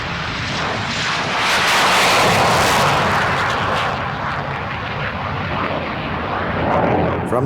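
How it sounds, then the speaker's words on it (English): A Grumman F9F-2 Panther jet fighter on its first flight from the Bethpage test facility roars loudly and steadily, a broad continuous engine rumble with a slight swell and fade. "F-9F2 is rolled out at the Bethpage plant test facility for its first flight."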